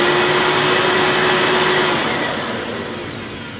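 A Hoover Elite upright vacuum cleaner, rated at 7.2 amps and fitted with a new brush roll, runs with a steady loud motor whine and broadband airflow roar, the pitch easing slightly downward near the end.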